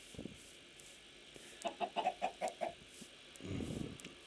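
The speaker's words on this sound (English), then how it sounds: "Chickens." Minecraft chickens cluck in a quick run of about six short, evenly spaced calls, followed by a brief rustle, all fairly faint against a quiet background.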